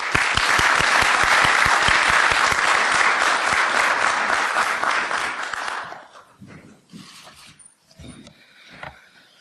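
Conference audience bursts into sustained applause welcoming a speaker to the stage, loud and dense for about six seconds before thinning into scattered claps and quiet room noise.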